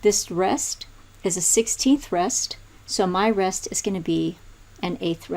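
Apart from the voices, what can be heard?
None of the usual background noises is heard.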